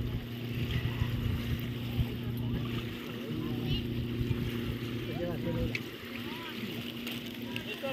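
A motorboat passes on a lake, its steady low engine drone carrying through the whole stretch with lapping water, while people talk nearby over it.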